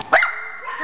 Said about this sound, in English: Here, take your dog back, Leona.